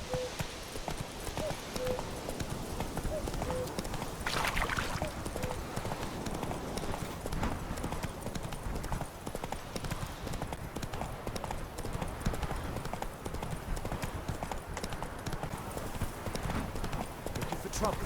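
Roach, the horse in The Witcher 3, galloping with a fast steady clip-clop of hooves that runs through the whole stretch, backed by game ambience and occasional voices.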